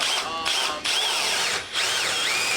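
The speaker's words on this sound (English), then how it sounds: "what you see me now doing is drilling the holes for my bed brackets" A power drill bores holes for bed brackets inside a Sprinter van. The motor whines in short bursts that rise and fall, with brief pauses between, close and fairly loud.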